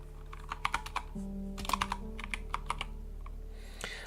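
Someone types a name on a computer keyboard: a few quick clusters of crisp key clicks and taps, close and fairly clear, separated by brief pauses over a low background hum.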